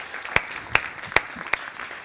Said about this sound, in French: Un tonnerre d'applaudissements pour vous